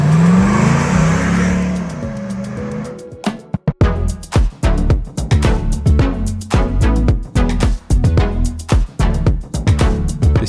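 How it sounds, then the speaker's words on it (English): GM LS3 V8 in a restored 1991 Land Rover Defender 90 with a six-speed automatic, a steady engine rush that breaks into a loud, choppy run of rapid revs and throttle blips close by. "Project Road is powered by a GM LS3 V8 engine with 6-speed automatic transmission"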